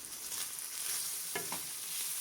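Chicken meat seasoned with oregano, chicken spice, thyme and black pepper sautés in a pan for a quesadilla filling, giving a steady close sizzle with a brief stirring scrape midway.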